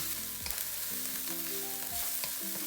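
Green onion whites, garlic and ginger frying in a pan for mapo tofu: a steady close sizzle with a few soft stirring scrapes.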